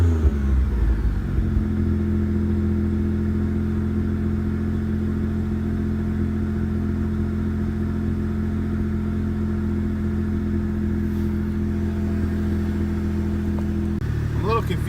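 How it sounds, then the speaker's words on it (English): A 1999 Mitsubishi 3000GT VR4 engine idles steadily on its first startup after a new ECU install, a loud, even low hum running throughout with a brief shift near the end. "car is running on first startup"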